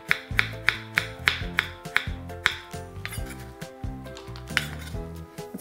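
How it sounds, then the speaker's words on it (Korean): Knife cutting carrot into thick half-moon slices on a cutting board, a steady run of crisp, sharp chopping taps close by with no voice over them. "이렇게 해서 당근도 오이하고 같은 크기로 반달 모양으로 두툼하게 썰어주겠어요."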